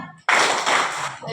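Sixth-grade children in a primary school classroom clap in unison during a clap game, one sharp onset swelling into a dense, close burst of many hands lasting about a second.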